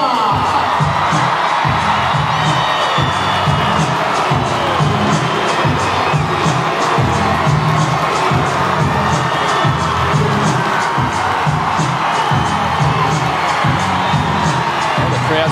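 A large stadium crowd cheers and roars steadily as rugby league teams Samoa and Tonga walk out side by side onto the field at Centrebet Stadium, a dense, continuous wall of whoops and shouts.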